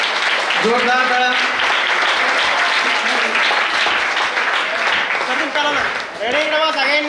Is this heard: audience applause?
yes